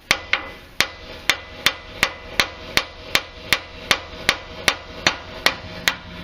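Hammer pounding on the front lower suspension of a Mercedes W163 ML320 to break a ball joint taper loose: a steady series of about sixteen sharp metallic blows, close and evenly paced, each ringing briefly.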